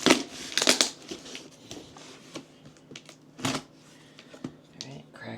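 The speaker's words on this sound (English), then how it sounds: "Let me find my knife. Crack this bad boy open." A knife slicing open the cardboard box of a Jonsbo C6 Handle mini-ITX PC case, giving sharp scraping and tearing bursts near the start and again midway, with quieter rustling between and a voice talking over it.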